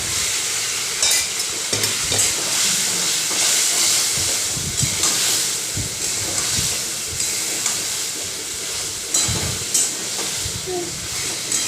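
Fried potato and pointed gourd sizzling in a spiced masala with a little water, a steady close hiss and sizzle with occasional stirring knocks throughout, no talking.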